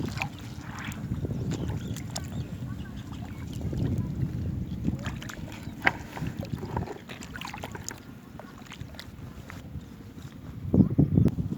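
Strong wind buffets the microphone on a Thai seashore at low tide during shellfish gathering, a steady low roar that rises and falls throughout, with a louder gust near the end.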